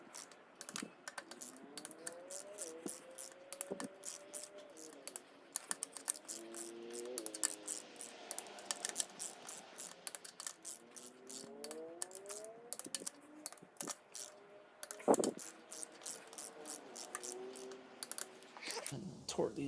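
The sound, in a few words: torque wrench tightening Honda GSR cylinder head bolts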